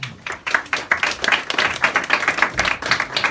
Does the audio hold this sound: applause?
yes